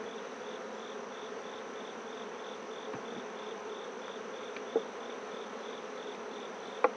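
Honeybees hum in a thick, steady drone from a hive left open during an inspection, close and even throughout, with only a couple of faint clicks from the frames and no talking.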